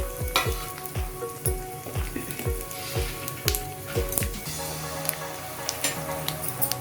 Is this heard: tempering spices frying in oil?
yes